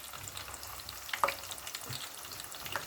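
Onions frying in canola oil in a pan, a close, quiet steady sizzle with a few sharp crackles and a light stir midway.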